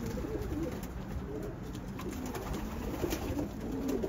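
Racing pigeon cooing in low, steady murmurs close by, a continuous soft burbling over faint outdoor background, with no talk.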